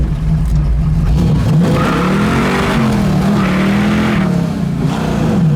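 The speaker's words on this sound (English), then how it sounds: "I had to let off of it because it was just sitting there spinning tires" A 1973 Ford Mustang Mach 1 muscle car engine roars steadily at high revs while the tires spin and squeal against the pavement, loud and continuous throughout.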